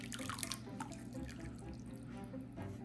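A 25-year-old Gemeinhardt 30SB silver flute being rinsed under a running tap, a steady faint water stream with small splashes and drips, close and alone.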